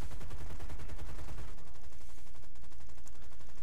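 An aircraft-mounted .50 caliber machine gun in War Thunder fires a dense, continuous stream of rapid shots, heavy at first and then thinning slightly, close and loud throughout.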